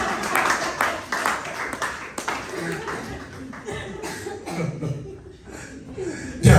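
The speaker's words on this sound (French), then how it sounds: "Applaudissez pour Maestro" An audience applauding a performer called Maestro at an event, with scattered clapping, coughs and chuckles mixed with voices in a live room.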